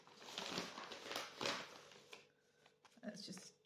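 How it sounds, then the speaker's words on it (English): Paper junk-journal tags being handled and rustled, a soft, close crinkling and shuffling that fades into a few lighter scattered rustles, quiet overall. "all you'll be able to hear is me rustling around"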